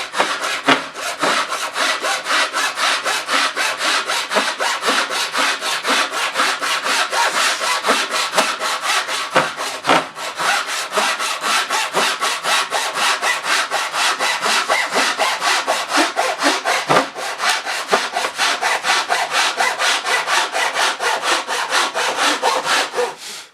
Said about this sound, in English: This saw has such fine teeth that this does the same as the saber saw or the jigsaw.